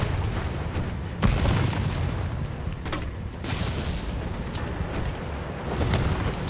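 Grenade explosions in the Resident Evil 3 Remake video game, a dense rumbling series of deep booms and blasts with sharper hits, loud and sustained throughout.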